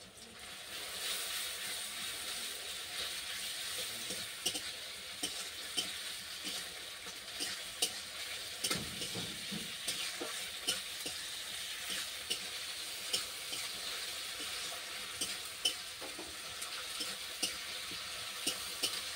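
Ginger, garlic and chili paste sizzles steadily in a hot pan for the whole stretch, with scattered scraping clicks as it is stirred; no voices.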